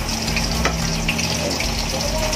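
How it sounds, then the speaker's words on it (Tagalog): A pot of native chicken stew (halang halang) bubbles and sizzles steadily up close on the stove, a constant crackling, frothy boil with a faint hum underneath. "Kumukulo. Nanang kumukulo."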